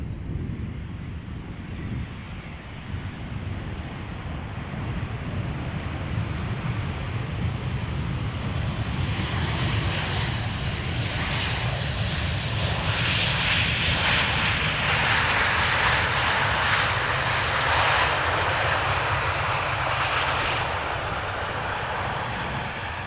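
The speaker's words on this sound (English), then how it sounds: "arriving from Edinburgh, it is a 737-800" A 23-year-old Boeing 737-800 from Edinburgh arrives at Amsterdam Schiphol, its jet engines a continuous loud rumble that builds into a rising, rushing whine as it passes nearer, alone without talk.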